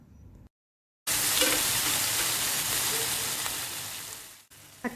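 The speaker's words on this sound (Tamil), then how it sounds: "வெங்காயம், பூண்டு, பச்சை மிளகாய் இந்த அளவுக்கு வதங்கிய பிறகு நம்ம கச்சஞ்சி எடுத்து வச்ச 1 தக்காளியும் சேர்த்து லேசாக" Onion, garlic, green chili and tomato sauté in hot oil, a loud steady sizzle bursting in after a brief silence and fading slightly before a short pause, with faint stirring.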